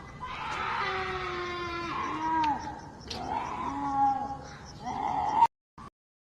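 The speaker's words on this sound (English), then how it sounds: "Yeah, it is a mountain lion. At the end, you can hear it for sure." A mountain lion's drawn-out screams play from a recording, several rising and falling wails that are loud and close, ending in a sharp cutoff followed by silence.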